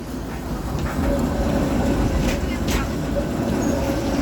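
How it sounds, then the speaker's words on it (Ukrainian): An old tram rolls through a street in Lviv, a steady broad rumble of wheels and motor filling the whole stretch with faint rail clatter and distant street noise around it. "І ось саме мій улюблений старенький трамвай."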